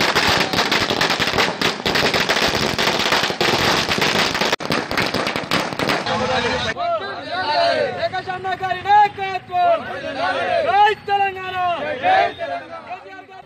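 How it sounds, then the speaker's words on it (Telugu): Firecrackers burst in rapid crackling volleys at a street celebration at a town square, loud and dense for several seconds before giving way to a crowd chattering and cheering close by. "టపాసులు కాలుస్తూ మిఠాయిలు తినిపించుకుంటూ ఆనందాన్ని పంచుకున్నారు."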